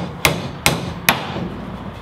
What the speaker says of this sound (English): That hammers in perfectly now.